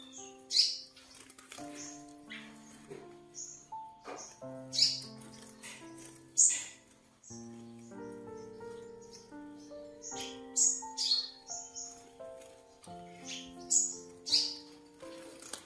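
Sunbirds for sale give short, high chirps and squeaky calls in scattered bursts. They are fairly faint and sit over a soft, steady tonal background.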